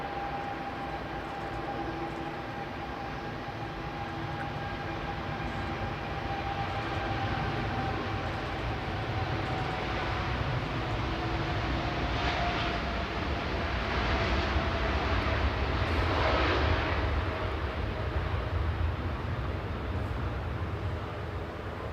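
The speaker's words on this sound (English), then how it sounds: "Departing back to Shanghai now, this is Zhenyao with flight 1662, 787-9 Dreamliner" A Boeing 787-9 Dreamliner departs Manchester Airport, its jet engines producing a broad, continuous roar that swells gradually and stays strong throughout, heard from a distance at an outdoor spotting position.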